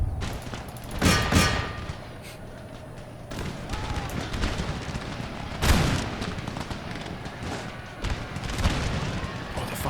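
Booming volleys of artillery fire support in the Empire: Total War battle game, several heavy thuds and crackling bursts scattered across a continuous rumble of distant gunfire.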